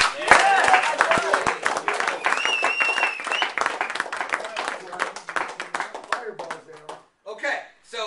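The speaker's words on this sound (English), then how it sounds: "Clap it up for the F&Gs." A small group claps and cheers, scattered close hand claps with whoops and voices on top, tapering off into talk near the end.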